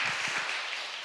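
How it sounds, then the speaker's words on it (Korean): A church congregation at a revival meeting applauding, heard as a steady, dense wash of clapping from many hands that carries on briefly and evenly. "하나님 앞에 영광의 박수를 이십시다."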